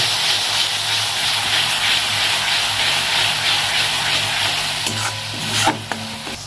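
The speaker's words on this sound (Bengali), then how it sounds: "ভালো করে মশলাটা কষে নেব।" Spice masala of turmeric, chilli powder and cumin powder with a splash of water, stirred and fried in a pan for a cauliflower and prawn curry, giving a steady close sizzle with scraping strokes near the end.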